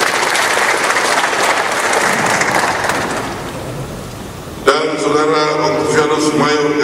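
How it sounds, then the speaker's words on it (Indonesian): A crowd claps at an official swearing-in ceremony for an acting regent in West Papua, dense applause that fades after a few seconds before a voice begins speaking. "Tepuk tangan dulu."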